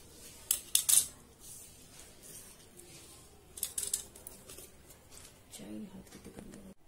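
Scissors snipping through folded paper to cut out a flower shape, a few sharp close cuts in short bursts separated by quiet pauses.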